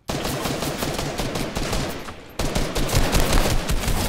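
Video game gunfire in sustained rapid bursts, loud and dense, with a brief dip before a second heavier stretch of shooting.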